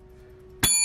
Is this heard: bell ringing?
yes